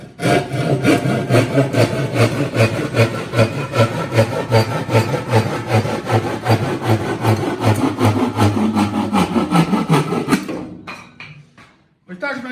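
Loud, rapid back-and-forth strokes of a hand saw cutting through a wooden board, steady rhythm for about ten seconds before stopping with a few clunks.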